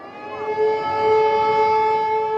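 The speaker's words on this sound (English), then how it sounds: "Very often they say the sirens are almost back to back." A steady, loud air raid siren wailing in Ukraine, near the South Ukraine nuclear power plant, its tone rising slightly and then holding level, sounding alone.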